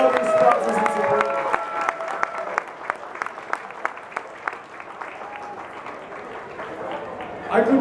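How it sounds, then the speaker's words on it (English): At a Hawaii Road Warrior tailgate outside San Jose State's Spartan Stadium, a crowd breaks into a dense round of applause that builds, then thins to scattered claps, with a voice talking at the start and end. "One giant round of applause for everybody and all of these sponsors and support"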